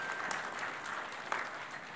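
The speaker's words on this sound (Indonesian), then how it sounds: "Tepuk tangan bagi Allah kita." A congregation at a church service in Jakarta bursts into steady, dense applause, many hands clapping together at close range with no talk over it.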